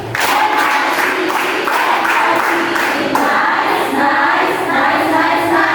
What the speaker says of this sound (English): Can you guys give yourself a nice clap?